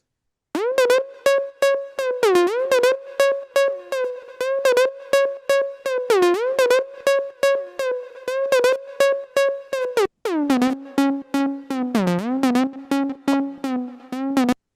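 Buzzy Dirty Dutch-style electronic synth lead plays short repeated stabs with squealing pitch bends, then drops to a lower register near the end.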